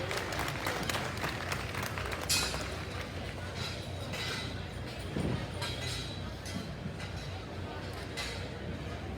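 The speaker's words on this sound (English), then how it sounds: "Let's give them all a big round of applause." At a junior pedigreed gilt show at a livestock arena, a crowd gives moderate, ongoing clapping that spreads across a large, echoey space. Background chatter, clinks and general arena noise mix in beneath it.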